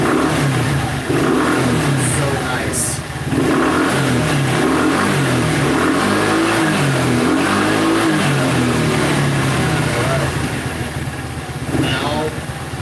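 A scooter engine idles and revs up close in a workshop, a rising and falling buzz with a rough steady drone underneath, while a person talks briefly over it.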